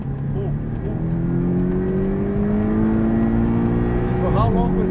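Porsche 718 engine under full throttle on a race track, rising steadily in pitch as it pulls hard and loud throughout, with a driving instructor talking over it.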